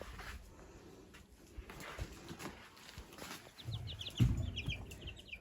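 Chickens on a farm cluck faintly amid soft background noise, with a burst of quick, high peeping calls toward the end.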